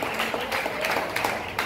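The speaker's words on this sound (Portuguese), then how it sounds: "Aplauda o Senhor." A short burst of congregation applause at a church service, steady clapping from many hands lasting under two seconds.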